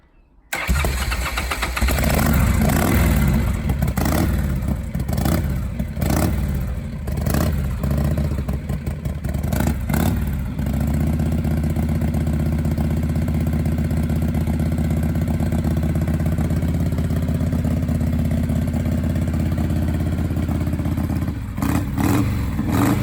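A Harley Shovelhead motorcycle engine cranks and fires with uneven loud bursts, then settles into a steady, close, heavy rumbling idle with a brief blip near the end, with no one talking.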